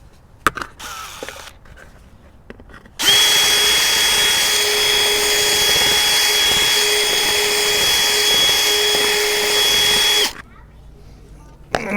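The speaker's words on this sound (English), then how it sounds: "I think I'm going to drill that out just a teeny bit more." Power drill enlarging a hole in a part for LED cowl lights on a Pathfinder, running steadily and loud for about seven seconds alone with a sharp whining pitch, with quieter handling noises before and after.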